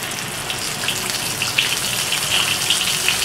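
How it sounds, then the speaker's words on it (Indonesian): Spice paste frying in about 100 ml of oil for Indonesian chicken lemper, a steady close sizzle with light crackles and pops. "Saya pakai 100 ml minyak untuk menggoreng bumbunya."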